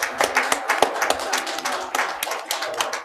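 An audience at a school district event bursts into lively applause, with many sharp, overlapping hand claps filling the room at close range and no speech over them.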